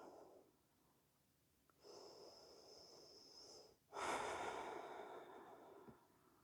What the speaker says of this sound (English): Slow, steady breathing.